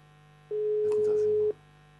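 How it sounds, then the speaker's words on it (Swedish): A single telephone ringback tone sounds once for about a second over a faint steady line hum, with silence on either side. "Vi ringer upp."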